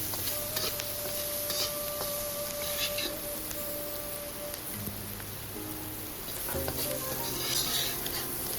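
Garlic bolts and potato strips sizzle steadily in hot oil as they are stir-fried, a continuous close frying hiss with occasional spatula scrapes and light clinks against the wok.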